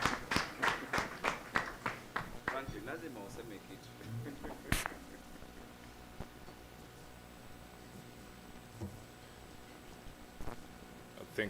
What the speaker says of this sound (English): Join me in clapping for Franklin.